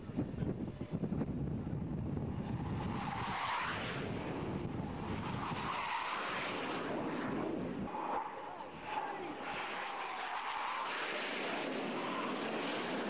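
A Douglas A-4 Skyhawk jet flies past, a loud roaring sweep that swells and fades in waves, with wind buffeting and a voice talking over it.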